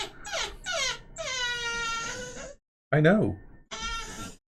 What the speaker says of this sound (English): Zach is being a whiny little dog because Zachy wants...